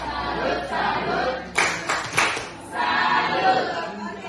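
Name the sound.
group doing the "tepuk salut" clapping chant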